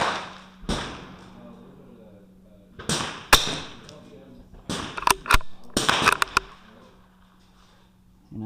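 .22LR rifle shots from a Bergara BMR-X at a rimfire club match, several sharp cracks spread across the stretch with some clustered close together, and a steady hum in the background.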